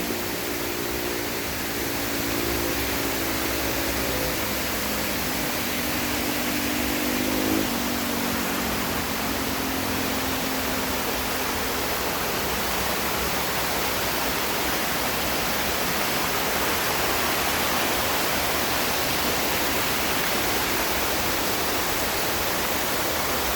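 Steady, broadband rushing of a waterfall at Little Dunn's River, Ocho Rios, Jamaica, fills the whole stretch, constant and fairly loud, with a faint low hum early on.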